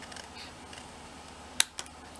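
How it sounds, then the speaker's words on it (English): Scissors trimming paper on a butterfly gift box, two quick sharp snips close together near the end, set against a quiet room. "I'm just going to simply get the scissors"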